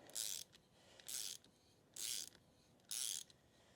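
A tap cuts new threads into an engine oil drain plug hole, giving four quiet, evenly spaced ratcheting bursts with short pauses between them.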